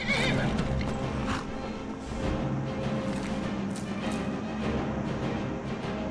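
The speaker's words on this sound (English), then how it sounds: "Oh, there's my horse." A horse in the video game Skyrim neighs loudly near the start, hooves clopping along under a steady tonal background.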